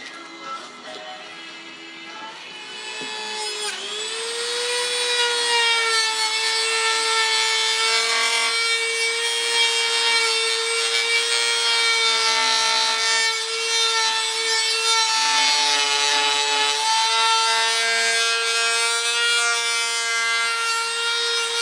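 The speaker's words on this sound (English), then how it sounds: "I'll do all that with the Dremel, with a cutoff wheel and then a sanding disc." A Dremel rotary tool fitted with a cutoff wheel and then a sanding disc trims the edges of a fiberglass door mold for a Dodge Ram. It gives a steady, loud, high-pitched whine that holds for about twenty seconds with no talking.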